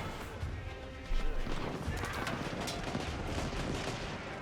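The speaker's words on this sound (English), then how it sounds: "Great gatehouse firing away." Gunfire and arrow volleys from a great gatehouse in Age of Empires 4, a dense, continuous barrage of game battle noise with a sharp burst early on and steady crackling throughout.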